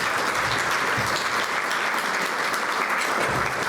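A lecture audience at SCI-Arc applauds architect Rossana Hu, a full, steady round of clapping from many hands that fills the whole stretch without letting up.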